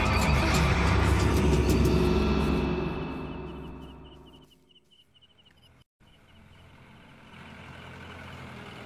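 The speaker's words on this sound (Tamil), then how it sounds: "குதிரை சத்தம் கேக்குது." A horse neighs loudly near the start in a drama scene, its whinny fading over several seconds into a quieter outdoor background with a low rumble; hoof clatter is not clearly distinct.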